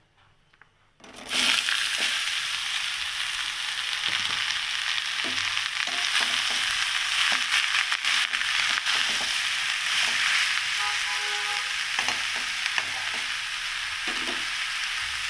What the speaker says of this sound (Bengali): যেই চড়বড় করে উঠবে এবং একটু ভাজা হয়ে যাবে 4-5 সেকেন্ডে